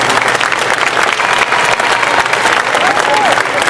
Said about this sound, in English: I should have let you applaud all along